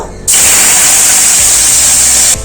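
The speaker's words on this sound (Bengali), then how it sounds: "তেজপাতা শুকনো লঙ্কা ভাজা হয়ে গেছে এর মধ্যে আমি জল দিয়ে দেবো" Water is poured into hot oil frying with a bay leaf and dried chilli, giving a loud, steady hiss that bursts in abruptly, holds for about two seconds and then cuts off sharply.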